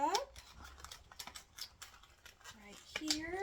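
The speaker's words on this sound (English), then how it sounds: "Dandy scissors." Scissors snip through salmon packaging in a kitchen, a few quiet close crisp cuts and plastic crinkles, with a person talking over them.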